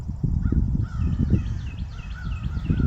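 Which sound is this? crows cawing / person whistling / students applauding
crows cawing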